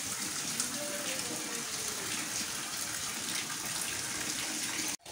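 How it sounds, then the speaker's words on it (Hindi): Heavy monsoon-style rain pours down in Karachi in a dense, constant hiss and rush of water that stays loud and unbroken throughout. "ये देखें कितनी तेज़ हो रही है बारिश"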